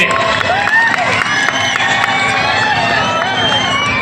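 Loud, dense crowd noise at a large outdoor public celebration, a water festival with singers, sustained throughout with cheering and possible clapping; whistles and shouts rise over the steady roar.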